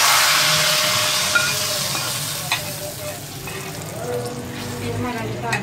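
Garlic fried red in hot ghee poured into cooked dal, a loud sizzle and hiss right up close that gradually settles, with light stirring clinks.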